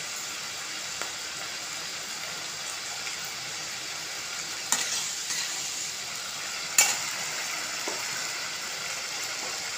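Spices with chilli and turmeric frying in a pan for egg khichdi, a steady sizzling hiss with a few sharp clacks of a spoon stirring against the pan, close and continuous, no talking.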